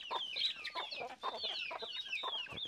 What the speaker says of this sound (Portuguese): Vem cá pra você ver o galo, filho daquele outro que tava andando ali, ó.